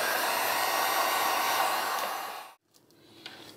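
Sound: Wagner heat gun shrinking wrap

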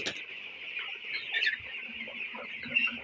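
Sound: 17-day-old broiler chickens clucking in a poultry shed

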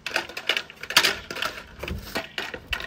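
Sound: cutting a Fiberon Weatherables deck post cover

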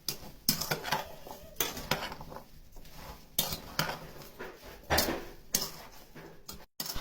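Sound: stirring pumpkin with sugar and citric acid

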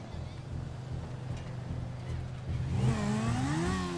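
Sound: car driving in video game GTA V

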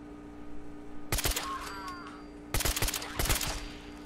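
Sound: suppressed full-auto assault rifle firing in Fallout 4 video game

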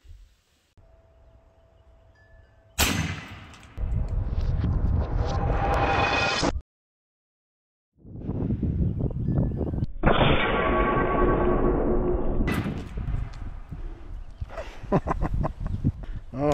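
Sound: Serpent Arms 550L PCP air shotgun firing tungsten rounds at targets

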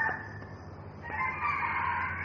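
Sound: rooster crowing

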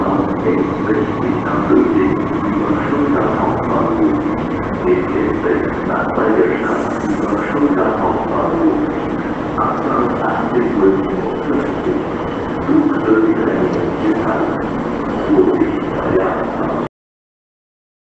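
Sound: S-Bahn S1 train arriving at Stuttgart Schwabstraße platform

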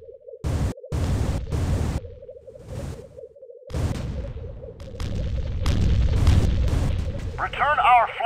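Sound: enemy turret explosion, from video game Starsiege: Tribes

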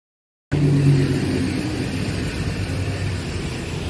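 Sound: car traffic

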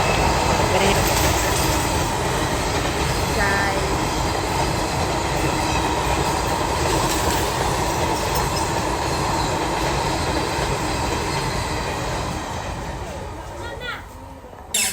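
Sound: train passing on rails

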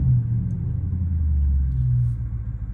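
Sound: Dodge Charger Scat Pack engine rumbling while driving

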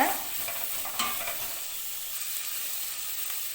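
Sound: sautéing cashews in a pan for sweet corn gravy

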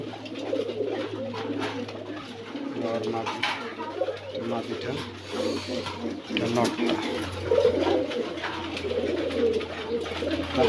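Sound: Afsan grizzle racer male pigeon cooing

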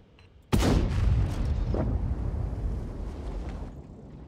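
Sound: tank gun shot in the video game World of Tanks

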